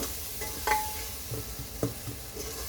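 Pre-cooked mutton pulao ingredients are stirred in a pot, with a few distinct scraping clunks of the spoon against the pot over a soft, continuous sizzle.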